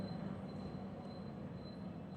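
Steady low rumble of an air-conditioned passenger train running from Ranaghat to Sealdah, heard from inside the carriage, continuous and even throughout with no talk.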